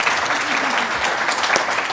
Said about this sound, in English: Give me a round of applause if you guys have learned something.